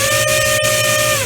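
Electric motors with a capacitor fitted to each ESC run flat out, giving a loud, steady high-pitched whine with a constant drone beneath, close and unbroken, with no voices.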